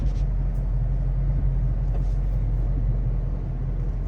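A low, steady engine rumble from a Chrysler 300 swapped with a Dodge SRT Scat Pack engine idles close by without pauses, a constant hum with no voices.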